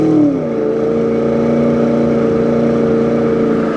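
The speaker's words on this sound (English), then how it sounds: "That's a really good sounding car with the aftermarket mufflers that are on it." A 2004 Ford Mustang Mach 1 with aftermarket mufflers pulls hard, its V8 rising briefly in pitch and then settling into a steady, loud, throaty drone under throttle.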